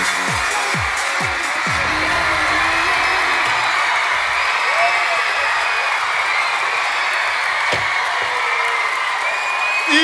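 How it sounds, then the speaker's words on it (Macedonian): A studio crowd at the finale of the Macedonian Idol television talent show gives a dense, steady wash of applause and cheering for the winner, with a host's voice heard over it. "со голем аплауз"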